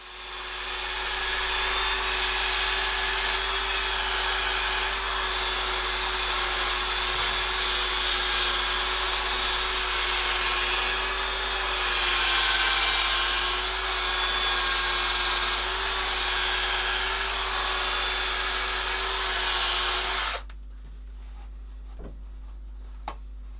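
A drill runs steadily while polishing detachable metal car exhaust tips, a continuous close whirring whine with a faint rubbing texture that stops abruptly near the end, leaving near silence.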